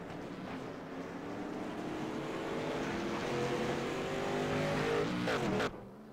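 Late model race car engine idling and revving as the driver reverses and turns around after a spin on an oval track, a steady loud engine drone that climbs in pitch before cutting off abruptly near the end.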